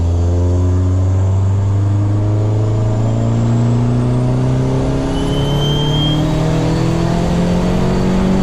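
A minivan with a swapped-in SRT4 engine pulls hard, its loud close engine note climbing steadily in pitch through a sustained full-throttle run, with no speech.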